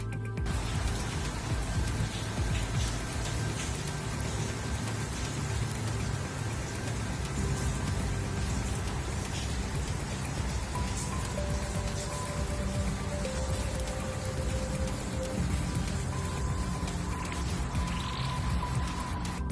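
Heavy October rain pours steadily onto hard surfaces, a dense, continuous patter of drops with faint passing tones in the background and no voices.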